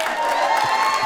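A studio audience claps and cheers at a daytime talk show taping, a steady wash of applause with some shouts, fairly loud and continuous throughout.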